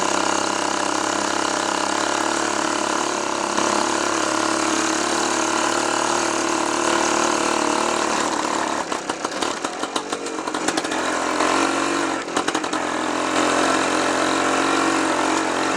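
A 1956 BSA Bantam Major two-stroke motorcycle engine buzzes steadily and close, its note dipping and crackling briefly as the throttle changes during a ride before settling back to a constant drone.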